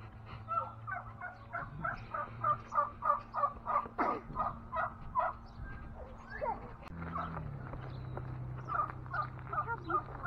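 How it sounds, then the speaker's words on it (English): Big turkeys gobble at a state park in a rapid run of rhythmic, warbling calls that repeats in a second burst, with quieter background voices and low rumble beneath. "Big old turkeys."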